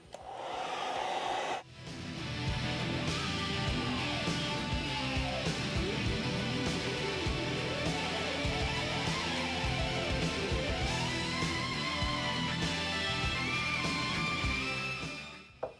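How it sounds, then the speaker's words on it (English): A hair dryer on its hot setting blows steadily and loudly at close range, a constant airy roar that cuts out briefly near the start, then runs on. "I'm just going to use a hair dryer, and you want to make sure it's on hot."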